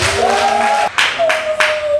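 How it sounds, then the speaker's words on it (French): Guests at an official wedding ceremony clap in a few sharp bursts over a sustained musical tone. "Veuillez applaudir une fois de plus, s'il vous plaît"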